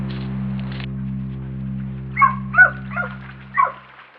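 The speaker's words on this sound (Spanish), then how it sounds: "Por años hemos registrado muchísimos perros asilvestrados o sin supervisión humana que repetidamente pasan por acá." Feral dogs in a forest bark and yip a few times at a distance, four short sharp calls late on over a low steady hum, after a faint rustle at the start.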